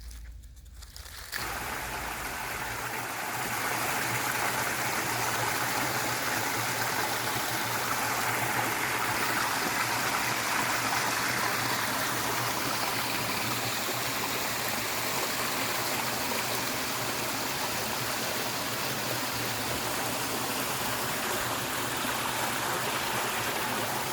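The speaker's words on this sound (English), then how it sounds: "this is just one of the beautiful streams you can find in Strickland Forest" A rainforest stream in Strickland Forest flows in a steady, full rush of water that is close and continuous throughout, with a faint crunch near the start and no talking.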